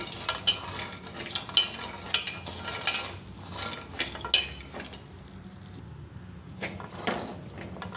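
Masala-coated peanuts are stirred in a pan with a stick, giving repeated scraping and clicking knocks over a steady background sizzle with no speech.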